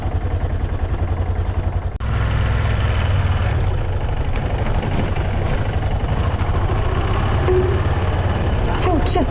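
An old motorcycle's engine idles after starting, a loud low chugging pulse that runs steadily throughout, with a sharp knock near two seconds and a voice speaking over it.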